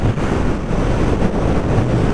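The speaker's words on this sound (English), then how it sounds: "No turbulent wind, natural wind blast as you'd expect, being a naked bike" Wind blasting past a rider on a CF Moto 650NK naked motorcycle at highway speed, a dense continuous roar of buffeting air, loud and close, with no voices.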